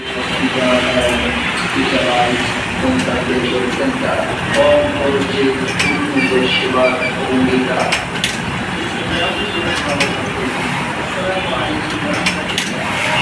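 Sewing machine stitching at a garment training centre, a rapid mechanical whir and clatter in short runs over steady room noise, with people talking throughout.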